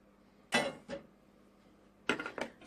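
Raw onion poured from a dish over grated potatoes while making potato Albanian börek, giving two short clattering bursts of dish-and-utensil clinks separated by quiet pauses.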